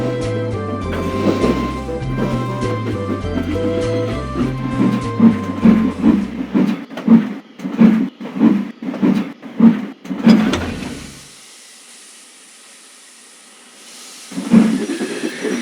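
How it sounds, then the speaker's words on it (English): A steam locomotive chuffs in a steady, rhythmic series of heavy puffs over a musical backing, then a long hiss of steam before the puffing resumes. "Edward puffed and pulled and pulled and puffed, but he couldn't move the heavy coaches"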